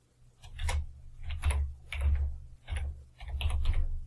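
Keystrokes on a computer keyboard while writing a VBA subroutine, clustered in five short bursts of quick clicks over a low background hum, close and moderately loud.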